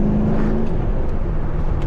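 A 2006 Ford GT's engine hums and drones from inside the car while driving, a steady low tone with a brief rising pitch early on, and no voices.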